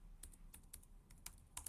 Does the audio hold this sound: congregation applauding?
no